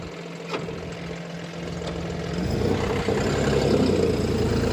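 A John Deere 5310 2x2 CRD tractor engine running, a low steady idle that swells after a couple of seconds into a louder, heavier diesel drone, close by and without speech.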